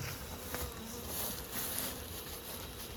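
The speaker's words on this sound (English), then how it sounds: "I've got the bees flying into this box here from out there" Bees fly into a hive box set on a trailer, a faint, steady buzzing hum of many insects close by, with no talk.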